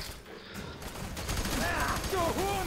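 Gunfire in the shooter game F.E.A.R. 3, a steady stream of rapid shots mixed with game effects and a voice talking over it.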